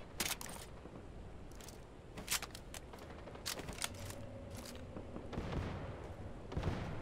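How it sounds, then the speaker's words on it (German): Gunfire in the Fortnite video game: scattered sharp shots and short bursts off in the distance, coming in irregular clusters over a low background of game ambience, with no speech on top. "Aber in der Richtung wird geschossen."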